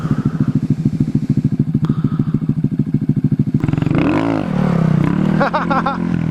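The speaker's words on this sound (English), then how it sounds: "Take the Husky out here and just drift around" A Husky dirt bike on a dirt road on Wadamala Island, its engine pulsing in a fast, steady rhythm up close before shifting to a smoother, higher drone with rising and falling revs.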